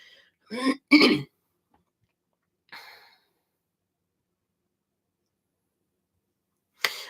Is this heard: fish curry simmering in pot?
no